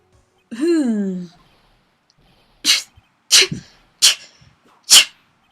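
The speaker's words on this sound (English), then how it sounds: "Sneezing." Cartoonish sneezes from the Phoenix Wright: Ace Attorney – Justice For All courtroom video game: a rising vocal wind-up followed by four sharp, close, loud sneeze bursts spaced about a second apart, with no talking.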